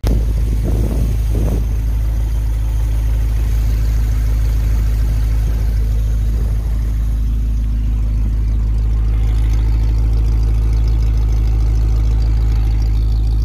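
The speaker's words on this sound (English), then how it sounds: "Another video here of it filled up with coolant, running up to temp this time." A 1951 Pontiac Chieftain engine, freshly filled with coolant, runs steadily up to temperature with a loud, close, low idle rumble, a couple of brief revs near the start, then an even drone.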